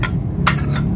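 A spoon clinks against a bowl while a small amount of skin whitening powder is mixed into flaxseed gel, giving two or three short, close taps.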